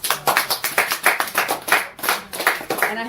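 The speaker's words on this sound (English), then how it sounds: "Give yourselves a round of applause." Studio audience applauding on a television talk show, a steady run of close, crisp hand claps with regular rhythmic bursts and no speech over it.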